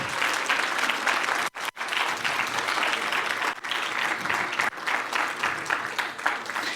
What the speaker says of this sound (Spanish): Vamos a darle un aplauso a nuestro Señor Jesús, porque Él sí es.